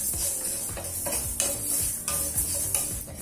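Black urad dal roasting in a pan, a close dry rattling sizzle with repeated scraping strokes of a spoon stirring at a steady rhythm.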